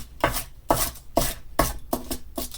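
A rolling pin rolls out kitchen aluminium foil for a crafting project, making six evenly spaced, crinkly, scraping strokes close by, with no talk.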